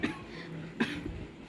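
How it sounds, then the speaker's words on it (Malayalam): Two short, faint coughs in a quiet indoor setting, one at the start and another a moment later. "ചുമ വന്നു"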